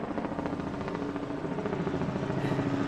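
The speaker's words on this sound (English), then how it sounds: "We got a helicopter keeps flying over." Helicopter flying over an old road near Hill City, South Dakota, its rotor giving a steady, fairly loud rhythmic chop and drone throughout.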